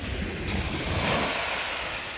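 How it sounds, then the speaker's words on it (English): Sea waves of the English Channel wash onto the Isle of Wight shore, heard as a continuous broad roar of surf mixed with wind noise. "there you can hear the sea, the English Channel crashing in."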